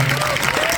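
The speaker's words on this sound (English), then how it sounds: "I think we can get a round of applause" A convention audience at an X-Men '97 panel breaks into a brief burst of applause and crowd noise, heard under a voice speaking.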